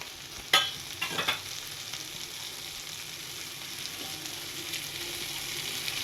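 Onion and capsicum frying in a pan, a soft continuous sizzle with a few brief scraping clinks of stirring near the start, then a quiet steady hiss without talk.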